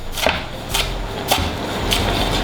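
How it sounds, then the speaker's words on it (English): A knife chops spring onions on the bias against a board: four crisp, evenly spaced cuts at a steady rhythm, close and clear. "Spring onions, not being very well trimmed. Again, cut them on the bias."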